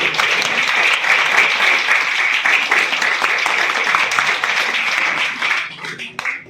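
An audience at a school seminar at an inter college gives loud, dense applause for several seconds, many hands clapping together up close before it tapers off and fades out at the end.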